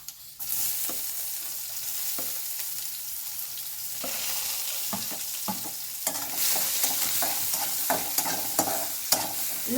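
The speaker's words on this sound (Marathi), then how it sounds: "हे चांगलं परतून झालेलं आहे आपण त्याच्यामध्ये कांदा टाकून घेऊया" Onion sautés in hot oil with garlic and chilli for vegetable fried rice, a steady sizzle punctuated by frequent spatula scrapes and taps against the pan, growing busier toward the end.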